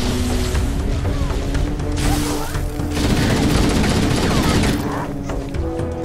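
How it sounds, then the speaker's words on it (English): Sustained assault rifle fire in the first Halo game, a dense, loud stream of rapid shots with crashing impacts that carries through the whole stretch without pause. "Okay, get the assault rifle out."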